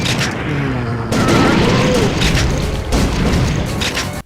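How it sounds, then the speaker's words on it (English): Shotgun blasts in the House of the Dead zombie shooter game, heavy booming reports layered over one another in loud bursts, with a voice speaking over them. "Now you're using a shotgun"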